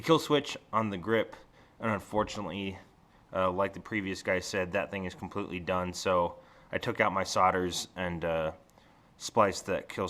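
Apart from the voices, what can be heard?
None of the usual background noises is heard.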